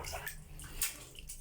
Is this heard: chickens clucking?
no